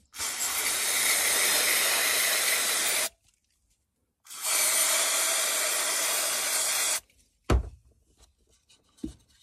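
Aerosol cleaner sprayed onto the air flow sensor (MAF) of a Citroën C6 HDI: two long, loud, steady hissing bursts of about three seconds each with a short gap between, then a sharp click and faint handling noises.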